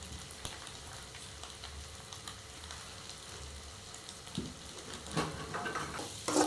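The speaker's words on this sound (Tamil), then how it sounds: "கொஞ்ச நேரம் அப்படியே பொரியட்டும்" Oil sizzling steadily in a pan while frying ingredients for egg rasam, a dense close crackle with a few stirring clinks near the end and no talk.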